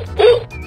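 A real dog gives one short, close yip or bark, brief and fairly loud.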